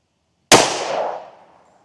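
A single loud Smith & Wesson M&P 2.0 Carry Comp 10mm pistol shot fired into ballistic gel, a sharp crack that decays over about a second with no talking.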